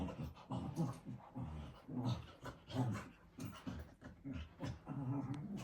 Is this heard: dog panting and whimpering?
yes